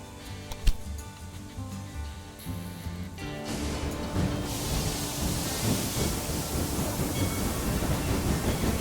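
A freight train runs in the video game Railway Empire 2. After a few seconds of quieter tones, a broad rumbling roll rises and holds steady, fairly loud and continuous.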